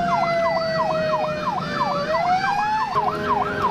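Wailing ambulance siren from the emergency-services video game Emergency 4, a rapid rising-and-falling electronic tone that sounds loud and continuous over a rumbling traffic background, its pitch shifting slightly partway through as the vehicle moves.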